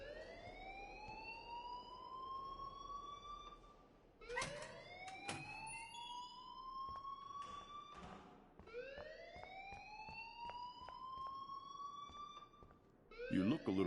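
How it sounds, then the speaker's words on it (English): Wailing building alarm in the video game Life is Strange: a siren tone sweeps upward and repeats roughly every four seconds, three cycles in all, with scattered clicks and background noise. "please turn off that alarm since that's your job"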